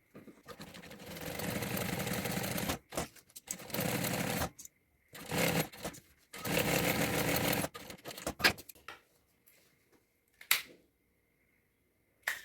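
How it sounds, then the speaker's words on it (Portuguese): A sewing machine stitches the three sides of a bag in several bursts of steady mechanical whirring, broken by pauses and small clicks while the fabric is repositioned, near and fairly quiet. "Agora, eu costuro os 3 lados aqui."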